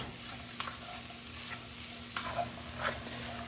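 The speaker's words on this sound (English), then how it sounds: "We're going to stir that up a little bit." Corn with onions and peppers is stirred in a pot over heat, a quiet low sizzle with a few soft scraping strokes of a spoon, faint and steady with no talk.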